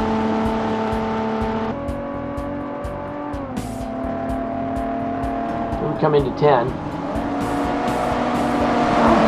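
A 1982 DeLorean laps Infineon Raceway in the Forza video game, its engine droning loudly and shifting pitch through gear changes, with tire squeal near the middle and someone talking over it.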